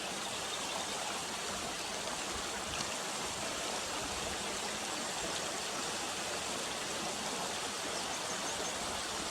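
Steady broadband rush of a river stream and waterfall beside a sheep's trail near Careyburn bridge, continuous and fairly close with no voices, the flowing water filling the whole stretch evenly.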